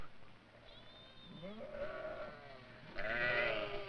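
Several sheep in a desert flock bleat, one wavering call followed by louder overlapping cries, with a soft background hum between them.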